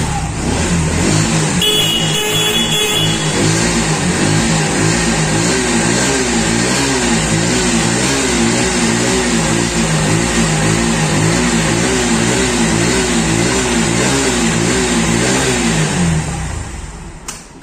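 A used 2023 motorcycle in A1 condition at a second-hand bike showroom is revved close up, its engine rising and falling through repeated throttle blips over a steady running rumble, loud and alone until it fades at the end.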